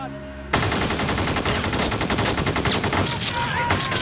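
Rapid automatic gunfire from the North Hollywood shoot-out, a loud, dense stream of shots that bursts in abruptly and keeps going, with a brief dip before the firing resumes.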